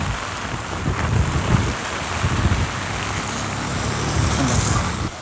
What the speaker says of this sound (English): the wind is very strong over here. It's not raining heavily, but because of the wind, the rain is hurting the skin